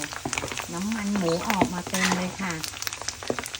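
Pork skin frying into crisp cracklings in hot oil gives a busy sizzling crackle with a wavering tonal hum laid over it.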